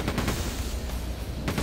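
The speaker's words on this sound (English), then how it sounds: "machine guns are awesome." Rapid machine gun fire in the video game Quake II, a dense loud burst of gunshots rattling close for about a second and a half.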